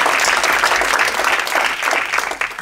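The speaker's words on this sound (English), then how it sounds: "how about a round of applause" A class audience breaks into steady applause during an organizing course session, many hands clapping at once in a dense, continuous wash that holds through the clip with no talk over it.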